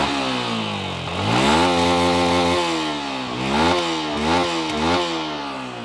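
Yamaha MT-15 Version 2.0 motorcycle engine idling up close, a loud buzzy single-cylinder note that lifts and dips in pitch with a few light blips of the throttle.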